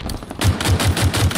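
Pistol gunfire in Halo Infinite: a quick series of about six evenly spaced shots, loud and close, with game noise underneath.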